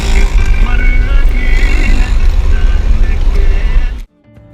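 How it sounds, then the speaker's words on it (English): Inside a roughly 50-year-old taxi in Egyptian traffic, a loud engine rumble carries crackling, distorted noise from a broken radio, until the sound drops away suddenly near the end. "This is the audio that I recorded inside a taxi who had his radio broken, but for some reason he was still using it."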